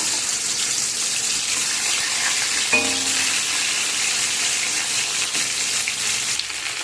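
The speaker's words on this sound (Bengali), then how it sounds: "এখানে সব মাছগুলোকে আমি এখন ভেজে নেব।" Bhetki fish fries in mustard oil in a wok over a gas flame, a steady, dense hiss of sizzling held close and loud throughout, with a brief clink partway.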